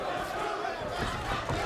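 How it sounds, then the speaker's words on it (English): A boxing arena crowd chants Santa Cruz in a brief, dense roar of many voices, rhythmic and loud throughout. "Crowd chanting Santa Cruz"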